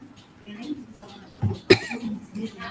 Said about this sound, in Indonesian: Ya Kak, batuk maaf ya Kak.